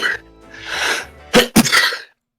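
A single sharp sneeze bursts out in a quiet room where a tabletop role-playing group is gathered, a short breathy intake followed by two quick explosive bursts, close and loud.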